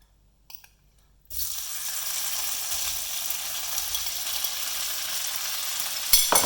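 Gnocchi dropped into hot brown butter in a pan after the heat is switched off, a sudden onset of steady, even sizzling that holds loud and continuous.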